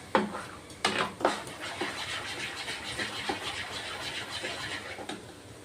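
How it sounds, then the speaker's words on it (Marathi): Semolina batter is whisked briskly in a bowl: a scraping, stirring rustle punctuated by several sharp clinks of the utensil against the bowl, fairly quiet and close. "आणि असं चांगलं फेटायचं."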